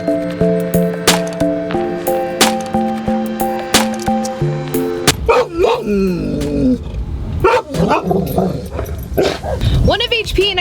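A neighbor's dog barking in sharp repeated bursts with yips and whimpers, mixed with music and talking voices.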